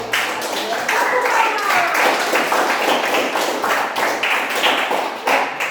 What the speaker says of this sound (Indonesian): Iya, tepuk tangan ya.